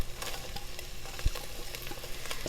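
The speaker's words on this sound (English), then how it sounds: "So we're gonna go ahead and put in 1 whole onion that's been diced" Diced onion frying in a pan for a keto curry, a steady close sizzle with faint scraping stirs and one soft knock midway, no talking.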